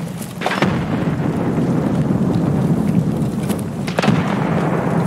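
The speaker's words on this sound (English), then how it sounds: "Is that you throwing all the grenades?" Grenade explosions rumble through a first-person shooter match on Customs, a deep continuous booming roar with a couple of sharper blasts.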